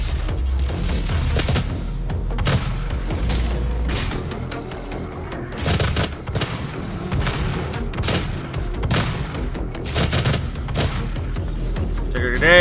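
Dense bursts of gunfire and booming grenade blasts from the video game Doom SnapMap, rapid overlapping shots and explosions that surge and fall in loud waves, with a voice shouting in places over the combat.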